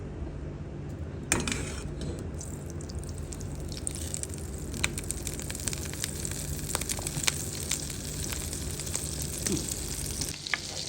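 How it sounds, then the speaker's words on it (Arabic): Onion frying in a pan of oil and butter for topping an Iraqi lentil rice dish gives a steady, dense sizzle with crackles and pops, close and continuous throughout. "هسه راح احمس البصل، اخلي شويه زيت واخلي زبد"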